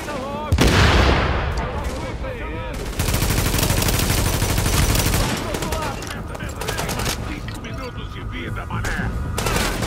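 Rapid gunfire bursts from The Division video game, loud and dense, with sustained automatic fire and overlapping shots; voices and in-game chatter are also present under the shooting.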